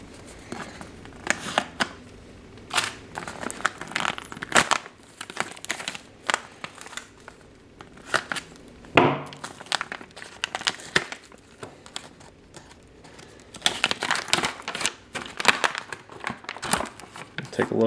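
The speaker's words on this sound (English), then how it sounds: "It's kind of a heavy multi-layer foil pack. There's not a tear notch or anything on here, so we'll just cut it open." Cutting open a heavy multi-layer foil pouch from a Mountain 24hr cold-weather MRE ration: a run of sharp crinkling, rustling snips and crackles in irregular bursts, close and fairly quiet, continuing throughout.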